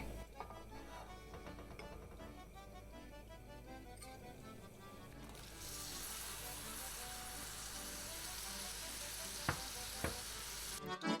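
Butter melts in a pan for an eggless apple pie recipe, a soft crackle that swells into a steady, hissing sizzle partway through, close by, with a couple of sharp clinks near the end.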